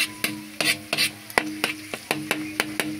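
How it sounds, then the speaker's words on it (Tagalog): A spoon scrapes around a pan of spaghetti sauce as it sautés. The strokes are regular and fairly close, with a light sizzle underneath. "Nagigisa na po ako para sa sauce ng aking spaghetti"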